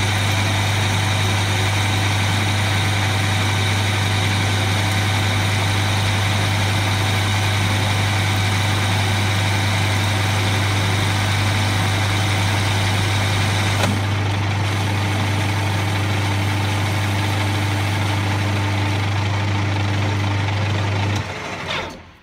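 Metal lathe turning a steel shaft produces a steady, loud motor hum with a constant low drone and faint whine, running evenly before cutting off at the end.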